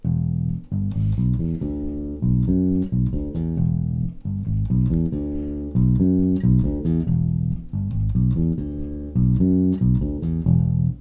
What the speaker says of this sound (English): It's a 2-bar riff which sounds like this.